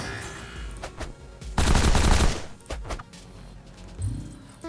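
A medium turret in the video game The Pit fires high-explosive rounds, making loud bursts of rapid gunfire with booming impacts. One dense burst in the middle stands out, and shorter shots come before and after it.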